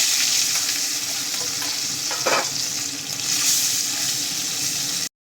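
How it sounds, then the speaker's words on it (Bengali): Bhola fish sizzling steadily in hot oil, a dense close crackle throughout with a short burst of louder spitting midway, then an abrupt stop. "বাকি মাছগুলো ভেজে নেব।"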